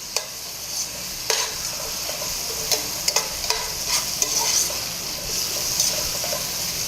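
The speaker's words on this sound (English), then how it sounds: "Just kind of let them nicely saute in there." Beans braising and sauteing in a pan give a gentle sizzle with a liquid bubbling edge, punctuated by intermittent clinks and scrapes of stirring, close up and alone.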